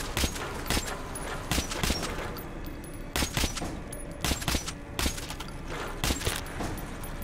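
Gunfire in the shooter Metro 2033: repeated sharp shots in short bursts and clusters, loud and close, with brief pauses between volleys and low background ambience.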